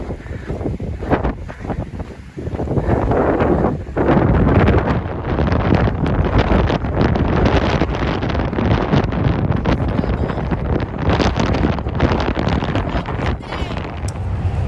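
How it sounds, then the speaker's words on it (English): Strong desert wind buffeting the microphone in loud, continuous roaring gusts that rumble without a break, with no other sounds standing out. "It's so windy."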